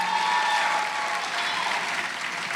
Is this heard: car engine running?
no